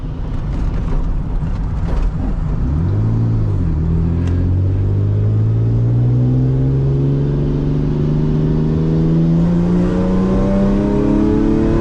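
A manual Lexus SC300 engine revs loudly and steadily climbs in pitch as it accelerates, with a droning rumble throughout and no talking.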